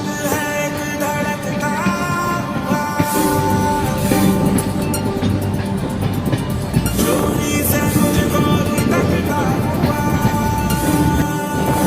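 Kanchanjunga Express rolling across a famous bridge in Assam between Badarpur and Lumding, a loud, continuous rumble of wheels and carriages with rattling and a few sharp clanks, heard from on board.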